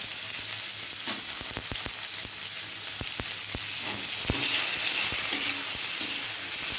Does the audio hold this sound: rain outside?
no